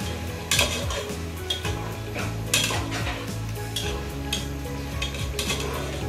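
Fresh fish slides into a pan of vegetables cooking with spices, bringing scattered clinks and scrapes of a utensil against the pan over a low, steady sizzle, close and fairly quiet.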